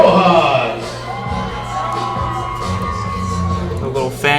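A small fan section at a senior all-star high school baseball game whoops, yells and cheers for the batter, with excited shouts rising over a busy crowd and an announcer's voice nearby.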